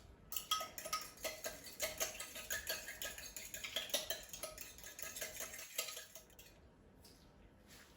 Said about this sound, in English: Then you whisk it all together.